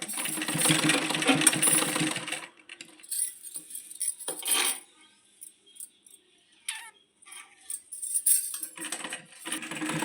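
Sewing machine stitching a folded blouse neckline, a fast rattling run of stitches up front, then short stop-start bursts separated by quiet pauses.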